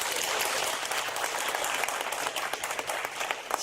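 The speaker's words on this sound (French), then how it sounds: "je vous demande de vous applaudir pour votre patriotisme" An audience at a Paris political gathering on Guinea applauds steadily, a dense and fairly loud spread of clapping that carries on throughout with no voices over it.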